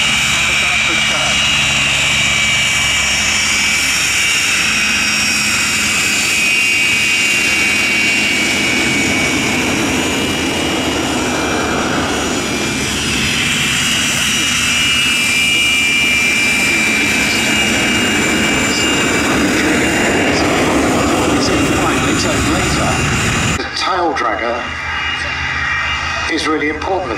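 Display aircraft fly over the Duxford summer air show, including a Slingsby T67N 260 Firefly and an electric aircraft, giving a loud continuous engine drone that rises and falls as they pass, with a commentator talking over it throughout.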